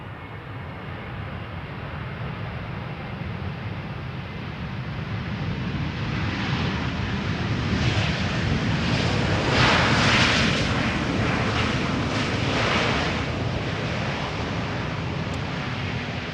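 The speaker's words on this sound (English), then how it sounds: "EasyJet up next, arriving from Edinburgh. A320neo." An EasyJet Airbus A320neo arriving from Edinburgh at Schiphol's Polderbaan roars in with a broad jet rumble that swells to a peak midway and then eases slightly as it passes, loud and without talk.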